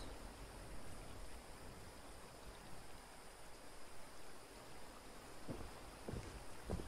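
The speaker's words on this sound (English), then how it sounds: "The sound of the water I do find quite relaxing." Steady lapping and flowing water beside a boat in the video game Fallout 76, a continuous soft wash with a few brief louder splashes near the end, no talking.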